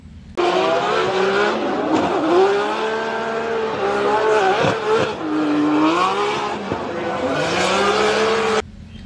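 NASCAR race car engines roaring and revving past, with rising and falling engine tones and squealing tires, loud and continuous with several passes.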